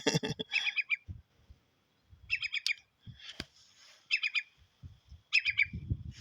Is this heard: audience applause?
no